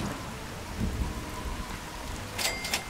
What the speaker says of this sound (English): I couldn't hear the combat music because of the rain